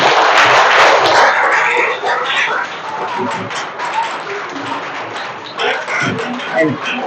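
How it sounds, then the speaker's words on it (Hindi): A classroom of schoolchildren clapping their hands loudly in a burst of applause that fades into scattered claps, with voices and chatter mixed in. "तालियां जोर से बजाओ, सुनाई नहीं दी।"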